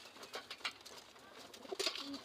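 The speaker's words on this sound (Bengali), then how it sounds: "এইখানে একটা কাজ করা কবুতর" Pigeons in a pigeon house give soft, faint coos and rustles, with a brief clearer call near the end.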